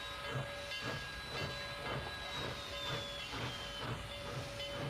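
Steady hiss of escaping steam from Norfolk & Western 1218 steam locomotive, a continuous broadband rush with a pulsing, chuffing rhythm underneath and faint tonal whistle-like lines, fairly loud and close with no talk.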